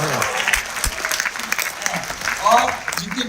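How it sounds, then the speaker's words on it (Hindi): Audience applause at a BBS Delhi event, dense clapping that swells and dips, with voices talking and calling out over it. "जितनी तालियां लगा सकते हो उतनी लगाते रहिए।"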